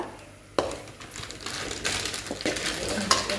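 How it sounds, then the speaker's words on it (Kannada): A spoon stirs a tomato bath mixture in a cooking pan, giving soft scraping and clinking strokes that start after a brief quiet moment and continue steadily, close by, with a small metallic knock near the end. "ಇದನ್ನು ಅಡಿ ಹಿಡ್ಕೊಳ್ಳಿಕ್ಕೆ ಬಿಡಬೇಡಿ ಫ್ರೆಂಡ್ಸ್ ಸೊ ಚೆನ್ನಾಗಿ ಮಿಕ್ಸ್ ಮಾಡ್ಕೊಳ್ಳಿ"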